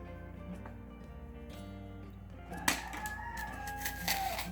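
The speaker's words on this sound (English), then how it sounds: "pardon me for the chicken" A rooster crows nearby in a home kitchen, a loud drawn-out call rising over steady background hum in the second half, with faint clucking.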